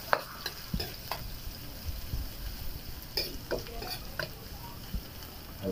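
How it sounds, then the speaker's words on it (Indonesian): Garlic frying in a pan sizzles steadily while a utensil stirs it, with scattered clicks and scrapes against the pan at an even, close, moderate level. "Haluin natin hanggang mag-brown ng bawang."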